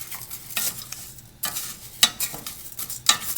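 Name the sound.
rice sizzling in oil for pilaf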